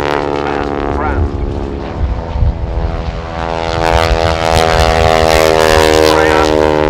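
Propeller biplane of the Breitling Wingwalkers display team flying at the RAF Cosford airshow, a loud steady engine drone with strong harmonic whine that swells toward the end, with faint voices mixed in.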